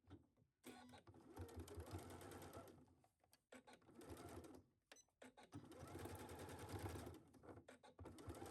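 A sewing machine runs a straight stitch on a baby onesie, close and steady whirring bursts that stop briefly and restart several times.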